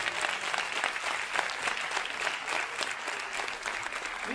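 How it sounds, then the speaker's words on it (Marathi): An audience at a school annual gathering applauds the children and their teachers with steady, sustained clapping from many hands, moderately distant. "खरं म्हणजे या मुलांसाठी आणि ज्या शिक्षकांनी यांना तयार केलं त्यांच्यासाठी एकदा जोरदार टाळ्या वाजवा"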